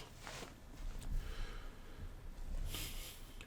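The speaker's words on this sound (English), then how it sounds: "It feels like I'm just sniffing too much" A person sniffing repeatedly, two or three short breathy intakes close to the microphone, spaced a second or two apart over quiet background, no talk.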